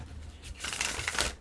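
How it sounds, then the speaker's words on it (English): Tarot cards being shuffled by hand, a brief papery riffling and rustling that builds after a quiet start, close and fairly soft. "We'll shuffle one more time with this."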